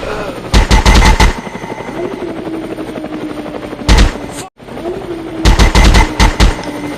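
Automatic gunfire in Counter-Strike, rapid rattling bursts in three loud clusters with a short pause and a brief dropout between them, over a steady whining background hum.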